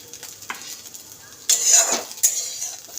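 Scrambled fried egg is scraped out of a frying pan with a utensil, giving close scratchy metal scrapes in two bursts over a faint background sizzle.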